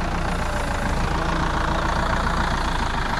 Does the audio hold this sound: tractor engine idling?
yes